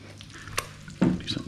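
Cumin seeds fry in a pan for dal tadka, a brief soft sizzle with a spoon scraping and stirring, close and quiet, ending in a louder stir.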